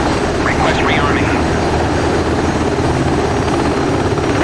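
UH-60 Black Hawk helicopter in DCS World on the Syria map, a constant loud rotor and turbine drone throughout, with a voice over it.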